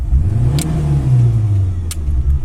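A car engine running on LPG is held at high revs during the switch over to petrol. It drones loud and steady with a low hum, and two brief clicks cut through, with no talk.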